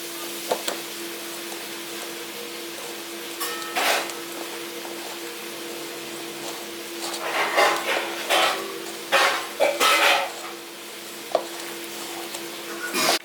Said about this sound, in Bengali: এবার আপনি এটাকে ভালো করে মাখিয়ে নিচ্ছি